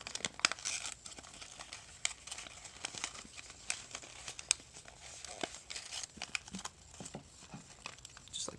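Origami paper being folded with a flap tucked into a pocket, heard as close, soft crinkling and crisp rustles in irregular bursts, alone and fairly quiet.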